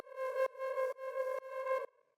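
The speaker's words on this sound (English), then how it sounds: "the next one is this one that I made with the Granulator" A soft, hazy granular synthesizer tone made with a Granulator repeats in four pulsing swells with a breathy grainy texture, faint and alone before fading out.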